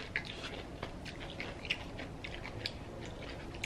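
Crunchy sour pickles topped with hot sauce being chewed close up, with repeated crisp bites and wet crunching at a steady pace, fairly quiet and with no talking.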